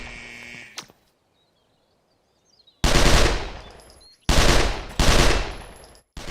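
Uzi automatic fire in the World of Shooting shooting game: three loud, close bursts of rapid gunfire, each lasting about a second, separated by short gaps, preceded by a brief electronic tone and near silence.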